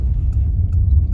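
A steady low rumble of a car rolling along a snowy road in Alberta, Canada, with muffled tire noise and a few faint clicks, continuous and close.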